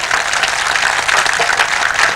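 Dense, loud clapping from a Hindi comic poetry gathering fills the short stretch, even and continuous with no pauses.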